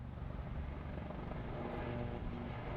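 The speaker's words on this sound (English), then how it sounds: "Military helicopters." Military helicopters flying overhead, a loud, continuous rotor drone and low thudding rumble that holds steady throughout.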